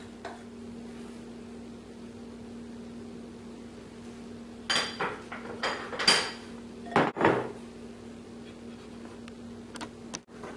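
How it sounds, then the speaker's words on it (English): Spoon dropping and spreading coffee cake batter over apples in a baking pan, a low steady hum, then several scraping and tapping knocks from the spoon against the pan in the middle and at the end. "just spoon dollops of the remaining batter over the top of the apples, and then spread that batter evenly on top of the apples"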